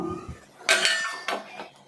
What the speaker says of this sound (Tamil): இப்போ ஒரு மூடி போட்டு இதை வந்து நல்லா கொதி வர விட்டுருவோம்